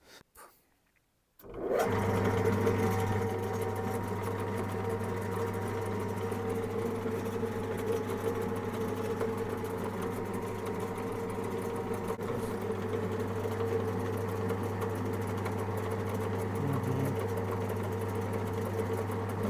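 Lathe with a cutter turning a hardened, chrome-plated shock absorber rod starts up after a brief silence, then a steady loud mechanical drone with a constant low hum runs alone to the end.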